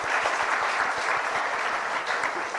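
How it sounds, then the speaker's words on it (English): A large audience at an educational charity event in Tamil Nadu claps in a dense, continuous round of applause, loud and sustained throughout with no talk over it. "I think it's a big round of applause to them."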